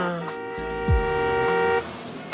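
A bus horn honks in one sustained tonal blast lasting over a second, with a brief lower engine note and traffic sounds around it on a city street.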